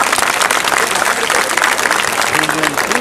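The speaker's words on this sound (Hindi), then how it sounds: "जोरदार तालियां बजाना चाहिए" A loud crowd applauds at a food and culture fair honouring stall prize winners, continuous dense clapping with voices mixed into the noise.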